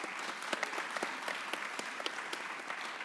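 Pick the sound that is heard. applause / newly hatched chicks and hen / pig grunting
applause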